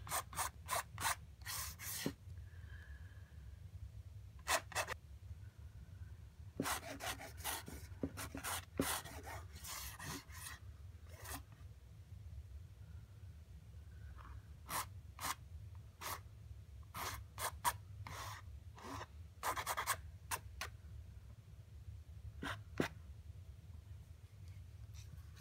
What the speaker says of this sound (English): scratching off that blue that I had put down before